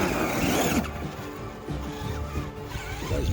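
Several Traxxas Summit RC trucks drive through snow outdoors, their electric motors whining and revving in short bursts with crunching and scraping, fairly close and moderately loud.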